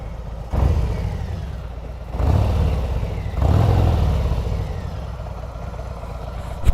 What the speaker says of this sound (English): Anyway, give it a bit of a rev.